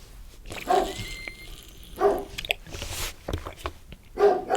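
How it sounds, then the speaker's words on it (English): Indoor dog barking in separate bursts, three or four loud sharp barks spaced roughly a second apart with quiet room noise in between, no talking over them. "can you hear my dog barking?"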